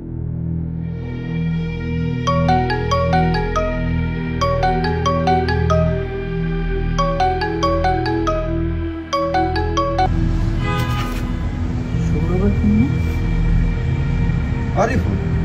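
A mobile phone ringtone plays a loud, bright repeating melody of quick note clusters over a steady droning backing, continuing for several cycles, with the tune changing to a noisier passage near the end.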